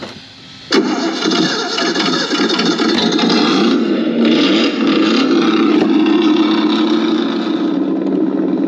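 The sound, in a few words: Kyosho Inferno GT3 AMG GT RC car motor running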